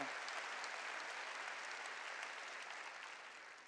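Steady clapping from a church congregation during a sermon, even and sustained, heard at a distance and fairly faint, fading slightly toward the end without speech over it.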